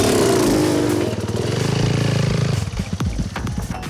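Enduro motorcycles start a race in a classified forest at Assinie, with several engines revving loudly together up close and then thinning into rapid, pulsing exhaust as the bikes pull away.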